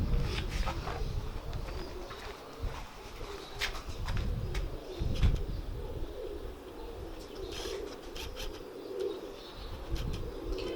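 Red-eye pigeons coo in a loft alongside a Malangi-bred male, low soft murmuring calls layered with faint chirps and occasional wing flaps, steady and fairly close throughout.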